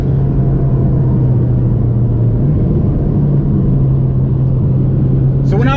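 Cabin of a Mitsubishi Lancer Evo 9 MR on the move, with a loud steady low engine drone and road rumble; a brief higher sweep sounds near the end.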